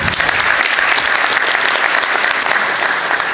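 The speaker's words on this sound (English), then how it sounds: "please give him applause" Audience applause at a Jacksonville City Hall introduction of the mayor-elect, greeting former mayor John Delaney: dense, steady clapping from a sizable crowd, loud and close throughout with no talk over it.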